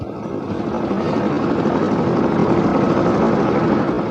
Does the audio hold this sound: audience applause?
no